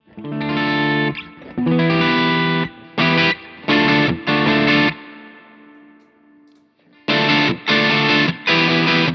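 Electric guitar through a Lightspeed overdrive pedal straight into the amp: overdriven chords ring out in bursts, a gritty sustained tone with a pause and decay before more chopped strums resume.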